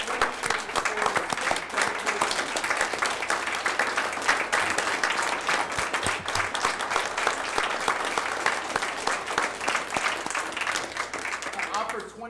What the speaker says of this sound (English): So if we can please get a large round of applause.